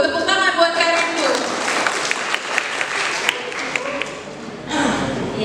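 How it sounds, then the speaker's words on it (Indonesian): A crowd of alumni at a vocational school reunion in Jakarta claps for a speaker, with dense, even applause that swells again near the end. "Tepuk tangan buat Kak Rindu"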